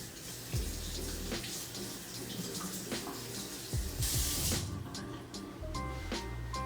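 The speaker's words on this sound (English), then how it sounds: "I'm just gonna wash my hands quickly" A kitchen tap runs steadily while hands are washed beneath it, a close, continuous hiss and splash of water with brief surges and spatters.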